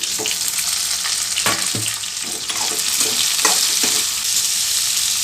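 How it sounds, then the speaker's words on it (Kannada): Spices and tomato frying in a pan, a loud close sizzle broken by several sharp stirring scrapes and spatters at irregular intervals. "ಇದನ್ನೆಲ್ಲ ಸೇರಿಸಿ ಚೆನ್ನಾಗಿ ಫ್ರೈ ಮಾಡ್ಕೋಬೇಕು ಈಗ ಟೊಮೆಟೊ ಸೇರಿಸ್ತಾ ಇದ್ದೀನಿ"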